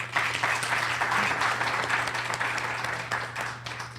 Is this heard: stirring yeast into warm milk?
no